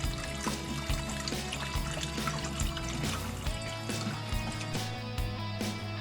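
Milk poured slowly into a flour paste while being whisked, a soft steady trickle with repeated light clinks and scraping of a whisk against the pan, close and quiet, no talk.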